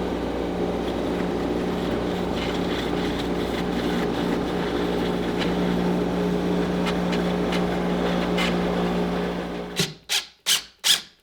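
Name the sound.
lathe skimming a disc sander disc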